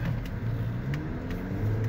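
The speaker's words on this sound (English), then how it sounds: "I floored it as soon as I turned the corner" A 2019 Jeep Compass Trailhawk engine pulls hard under full throttle after a corner, a steady mid-pitched drone with a low rising hum throughout, no talking.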